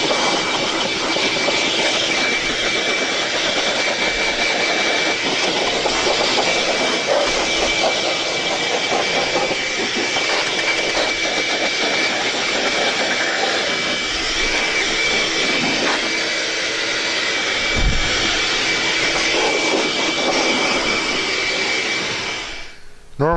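A RIDGID 6HP 10-gallon shop vac set to blow air dusting off in a workshop roars loud and steady with a constant high whine for over twenty seconds, then cuts off at the end.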